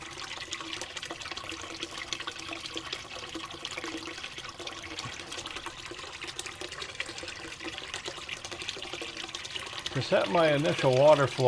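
Water runs steadily through a Kreeger Aqua Water Warrior sluice, a hyper concentrator set at a chosen pitch, giving a constant rushing wash that swells louder near the end.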